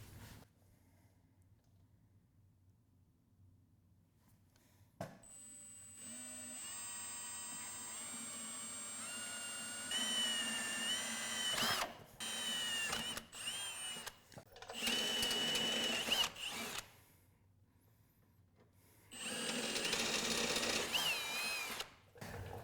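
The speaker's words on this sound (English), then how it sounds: "drill them out with a pilot hole" A power drill boring pilot holes while fitting a Smittybilt rear bumper on a Jeep Wrangler whines in several bursts, speeding up and stopping between short pauses, close and fairly loud against a quiet background.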